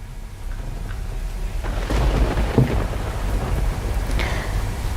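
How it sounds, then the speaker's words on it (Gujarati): Heavy monsoon rain pours down steadily over the Narmada river area in Gujarat, with a low rumble swelling in the middle; no voices. "ભારે વરસાદ વરસી રહ્યો છે"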